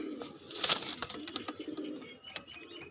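Pigeons, a pair of chocolate-coloured Madeen birds among them, coo softly and repeatedly at close range amid a little wing and bird rustle, with no talking.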